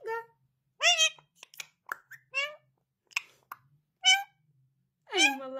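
A pet bird imitates a cat, giving several short, clear meow-like calls spaced apart in a quiet room, each rising and falling like a cat's mew.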